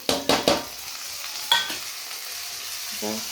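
Cut potatoes and onions are tipped into a hot pan with turmeric and salt and stirred, giving a few quick scraping stirs and a steady loud sizzle of frying, close up with no talking.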